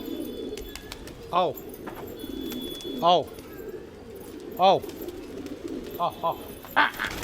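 A pigeon coos several times at a steady spacing, close and clear, over a low background hum, with a couple of shorter calls near the end.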